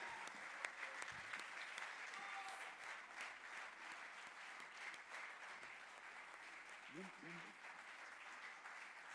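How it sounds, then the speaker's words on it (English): An audience at a live show applauds continuously, a steady wash of clapping that stays fairly even throughout, recorded at a distance and quite faint. "Please put your hands together for them."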